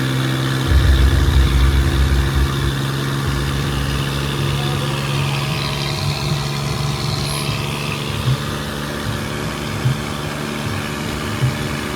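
A tractor engine idles steadily at close range while being refueled at a fuel station, a low, even rumble that holds for the whole stretch without revving up or down.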